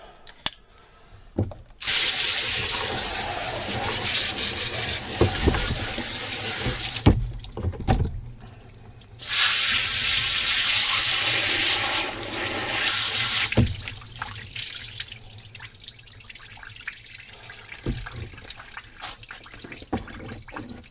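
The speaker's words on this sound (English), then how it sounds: "Now we're going to get our hose pipe and give it a rinse off." Water from a hose pipe rinses a freshly skinned and gutted rabbit outdoors, two loud steady gushing bursts separated by a short pause, then fading to faint dripping and handling sounds.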